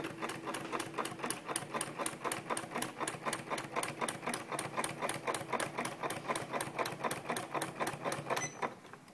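A sewing machine stitching a blanket, running in a fast, even rhythm of needle strokes, close and clear, then stopping just before the end.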